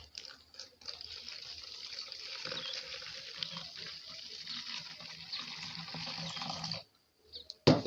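Water pours steadily into a 5-litre homemade Dettol disinfectant mixture made with chloroxylenol, a continuous splashing gush lasting several seconds before it stops, followed by a brief clatter.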